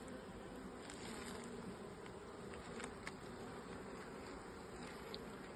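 Honeybees buzz around an open beehive during a frame inspection, a faint, dense, continuous hum with scattered small clicks and taps from the hive work.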